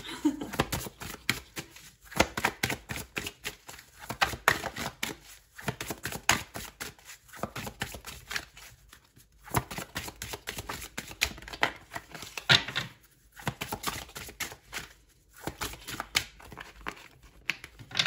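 Tarot cards being handled and laid down, with repeated soft shuffling, sliding and tapping in uneven bursts separated by short pauses, close and fairly quiet.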